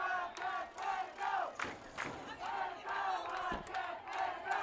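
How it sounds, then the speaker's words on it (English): A high school football crowd at Yellowjacket Stadium roars and chants in rising and falling waves, loud and continuous, with scattered shouts and a few sharp thumps during the game. "Now this crowd is getting into this football game now"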